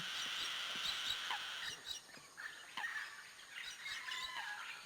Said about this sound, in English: Look, that tropical bird family is our most recent addition.